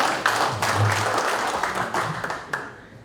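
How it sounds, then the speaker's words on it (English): A room of Rotary club members gives a birthday round of applause, a steady wash of many hands clapping at once that holds for several seconds and then thins slightly toward the end. "Let's give Don a round of applause."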